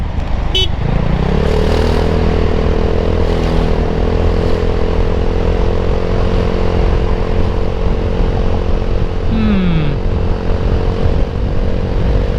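A Vespa GT270 scooter with the DZ3 engine revs hard while overtaking on the road. The engine drone is loud and sustained under heavy wind rush, its pitch rising through the pass.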